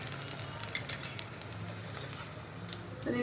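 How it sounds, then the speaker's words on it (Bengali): A paratha fries in oil in a kadai with a continuous close sizzle and faint crackles, moderately quiet and steady throughout, with no voices. "তো একটা পরোটা দিয়ে দিয়েছি কড়াইতে, এবার এটাকে উল্টে পাল্টে খুব ভালো করে ভেজে নেবো"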